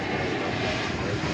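An American airliner taking off from runway 1 left at DFW Airport, its engines giving a steady, loud, broadband roar with no break.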